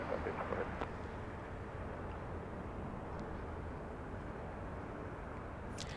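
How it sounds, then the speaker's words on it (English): Japan Airlines Boeing 777 jet airliner at Los Angeles International Airport, heard as a steady, fairly distant broadband engine roar that holds level throughout without fading. "We have Japan Airlines, a 777."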